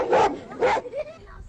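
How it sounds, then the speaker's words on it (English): An old dog guarding its master's tent gives two hoarse barks, followed by a fainter whine, fairly close against a quiet background. "an old dog who's seen better days guards his master's tent nearby"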